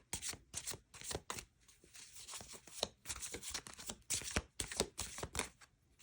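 A deck of tarot cards is shuffled by hand in quick, rhythmic bursts of riffling and slapping, close and clear, with brief pauses between rounds.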